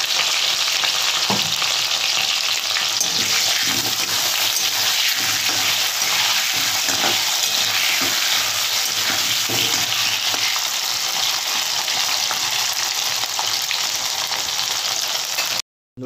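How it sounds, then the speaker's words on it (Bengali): Taro corms and potatoes fry in hot oil, a steady, close, dense sizzle with occasional stirring scrapes and pops that carries on without a break and stops abruptly at the end, with no voices. "এই তেলের মধ্যে আমি কচুর মুখিটা আর আলুটা ভেজে নেব।"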